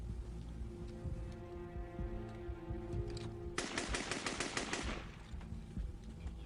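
Gunfire from a hijacker aboard the Air France 8969 airliner in 1994: a single rapid automatic burst of about a second rings out loudly over a constant low rumbling background.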